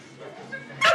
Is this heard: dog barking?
yes